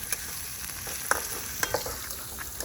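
Vegetables stir-fried in a pan for poha, a steady hissing sizzle with scattered sharp scrapes and clinks of a spatula against the metal, moderately close with no voices.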